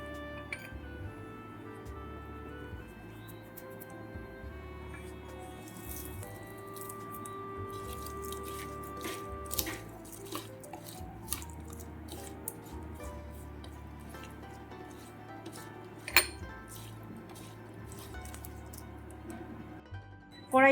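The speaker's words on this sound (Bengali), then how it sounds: "ততক্ষণ আমি লবণ হলুদটা মাখিয়ে নেব মাছে।" Hands rub salt and turmeric into raw prawns in a home kitchen, producing quiet, soft wet squelches and faint ticking taps at close range, with no talking.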